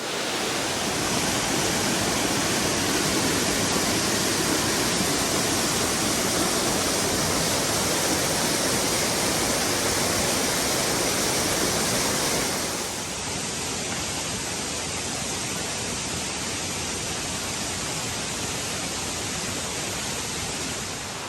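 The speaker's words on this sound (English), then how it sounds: "we're here at the top of Ozone Falls" A 60-foot waterfall, Ozone Falls on the Falls Trail at Ricketts Glen State Park, roars as a steady broadband rush, loud and close throughout, easing slightly partway through but never stopping.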